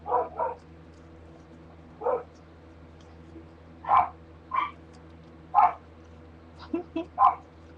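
Several dogs bark in short, scattered bursts, some sharper yips among them, over a faint low hum with long quiet gaps between.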